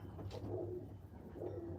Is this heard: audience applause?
no